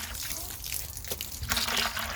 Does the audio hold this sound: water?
yes